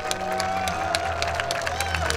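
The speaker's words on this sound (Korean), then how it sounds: "큰 박수로 환영해 주시길 부탁드립니다." An outdoor crowd at a political rally in front of the National Assembly building claps and cheers to welcome a presidential candidate to the podium, with dense, continuous applause and scattered sharp claps over a low background hum.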